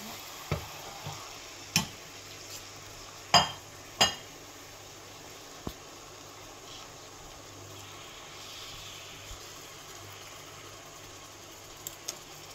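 Veal liver sizzles quietly in a frying pan beside onions, for French-style veal liver with fruit vinegar, a soft steady fry punctuated by several sharp clicks and taps of utensils against the pan.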